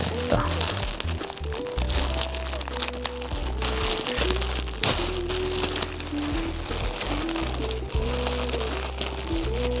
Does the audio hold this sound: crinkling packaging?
yes